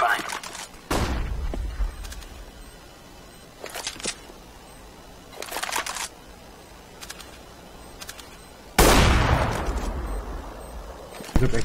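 A flashbang goes off in Counter-Strike: Global Offensive among several sharp gunfire bursts, with a final loud bang near the end that rings out louder than the earlier shots.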